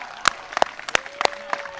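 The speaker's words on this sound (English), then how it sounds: "one last cheer for everyone here" Sparse, separate claps ring out near the microphone at an Envirothon award ceremony in Westchester County, a handful of distinct sharp hits spaced unevenly over a couple of seconds rather than a full burst of applause.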